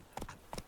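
Hooves of Roach, Geralt's horse in The Witcher 3, two quick faint clip-clop pairs of footfalls, soft and brief against a quiet background.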